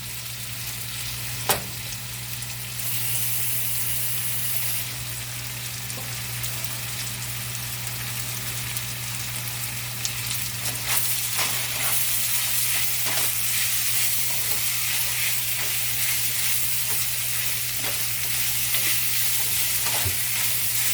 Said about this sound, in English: stir in scallion and cabbage until tender, 2 to 3 minutes